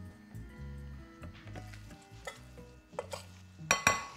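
Shrimp being mixed with a spice blend in a bowl, a continuous close scraping stir with light clinks of utensil against dish, ending in two sharper knocks.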